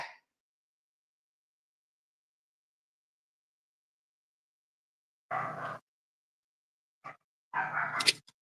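A small dog barks in a few short, sharp bursts at close range, separated by long silent gaps and growing busier toward the end.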